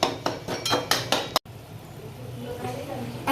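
Cardamom bananas are stir-fried in a pan for a semolina sheera, with a run of quick metal clinks and scrapes of a spoon against the pan, close and fairly loud, followed by a softer steady background.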